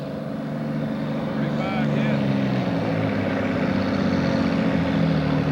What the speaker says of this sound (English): Kentucky, 460 International. Single turbo tractor, alcohol powered.